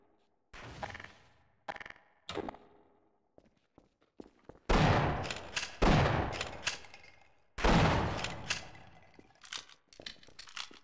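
Gunshots from the Half-Life video game ring out as loud separate bursts: a few lighter pops early, then three heavy booming shots with reverberant tails, followed by smaller clicks and taps.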